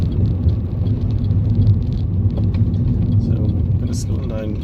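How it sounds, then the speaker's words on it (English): A car slows down under steady low engine rumble and road noise, shifting into second gear before a left turn near Dunnes Stores; a voice talks over it throughout. "Slowing down, getting into second gear"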